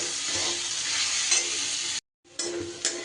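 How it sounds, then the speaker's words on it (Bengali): Sliced onion salted to soften sizzles steadily while frying in hot oil, with stirring scrapes over the hiss, heard close up, briefly cut off, then resuming; no talk. "পেঁয়াজটাকে অল্প সময় একটু নাড়াচাড়া করে নেব।"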